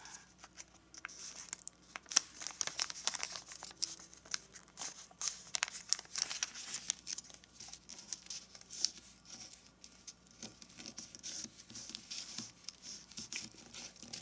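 Paper being folded and creased for an origami Easter basket, a steady run of soft crinkles, rustles and light pats close by with no talk.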